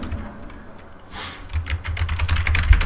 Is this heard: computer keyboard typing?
yes